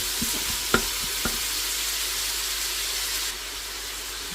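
Ingredients sautéing in a pan with a pinch of salt, a steady close hiss of cooking broken by a few quick clicks near the start, softening slightly toward the end.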